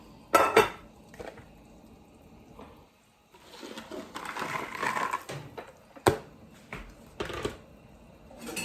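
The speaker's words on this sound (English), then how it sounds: "I'm adding that to the pot." Stew peas are tipped into a cooking pot in a home kitchen, with sharp clanks of a utensil against the pot, a soft rushing pour in the middle and more scattered metallic knocks, close up and with no one talking.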